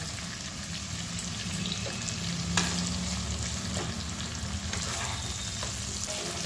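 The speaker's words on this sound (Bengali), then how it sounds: "এবার আমি এতে পেঁয়াজ বাটাটা দিয়ে দেবো, দিয়ে খুব ভালো করে আমি এবার কষাবো" Onion paste sautéing with spices in oil for egg curry, a constant close crackling sizzle with occasional light scrapes and clicks from stirring, a low burner hum underneath and no talking.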